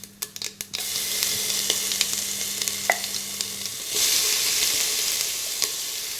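Ground coconut paste is dropped into hot oil with popped mustard seeds. A few sharp pops give way to a steady, loud sizzle that swells further partway through, with occasional stirring clicks.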